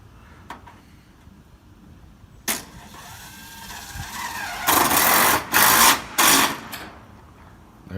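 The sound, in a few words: power drill screwing in a downspout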